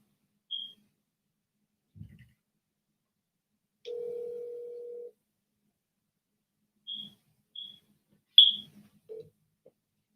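A single ringback tone purrs for about a second on an unanswered phone call, set among long stretches of silence and a few faint clicks and short beeps.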